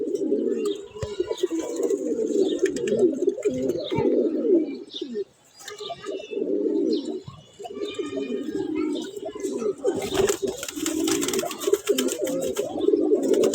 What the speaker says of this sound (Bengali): কবুতরগুলো একটু খুশি খুশি মেজাজ আছে